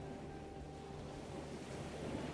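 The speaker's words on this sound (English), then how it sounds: "the waves wash up and over the sand" Ocean waves wash gently up over a sandy beach in a soft, continuous hiss at moderate distance, steady and calm with no voices.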